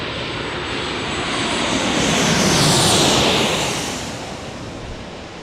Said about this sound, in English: We got United Airlines landing next.